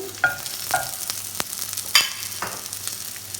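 Onion sautéing in hot coconut oil in a pot, a close steady sizzle broken by several spoon knocks and stirring scrapes, with no talking.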